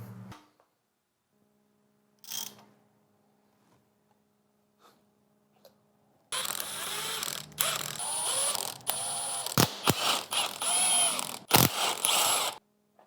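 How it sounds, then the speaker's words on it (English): A 5.3L V8 engine on a stand is rotated to release its valve springs. After sparse small clicks, a loud stretch of ratcheting and clattering mechanism noise follows, broken by sharp metallic knocks, close by. "now we're going to rotate the motor around and get those other springs released"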